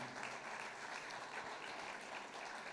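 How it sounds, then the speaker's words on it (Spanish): A church congregation claps steadily and continuously in praise, a dense wash of applause heard at moderate distance, with no talking. "Fuerte ese aplauso de alabanza al Señor"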